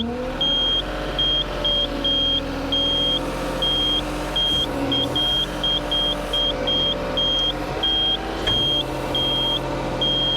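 Alarm on a Kubota KTH4815-2 machine, rapid repeated high electronic beeps in irregular bursts over a steady running engine hum, loud and close.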